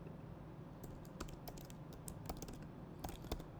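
Quiet, steady computer keyboard typing while writing Swift code, with irregular soft key clicks in bursts and a constant low background hum, no voice present.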